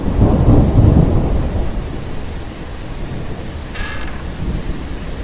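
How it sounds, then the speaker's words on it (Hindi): Heavy rain pours down outside in a dense, continuous roar, with deep rumbling thunder swelling at the start and a brief faint tonal sound mid-way. "बाहर बहुत तेज बारिश हो रही थी"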